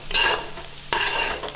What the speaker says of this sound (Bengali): এখন হচ্ছে আমাদের আলু ভাজা